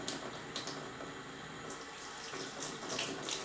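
Tap water runs steadily into a sink as makeup brushes are rinsed of soap, a continuous moderate splashing hiss with slight swells and no voices.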